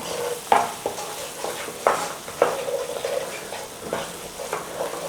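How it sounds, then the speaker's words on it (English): Onions and whole spices, including cinnamon sticks, sizzle in hot oil for a chicken madras, with a spoon scraping and stirring through the pan in repeated strokes over a steady close frying hiss. "All those spices are still blooming in there, and the way we've cooked our onions in that oil"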